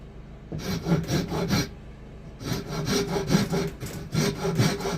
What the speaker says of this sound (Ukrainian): І нам допомагає ось така річ напильник по дереву. Він дуже класно працює з деревом.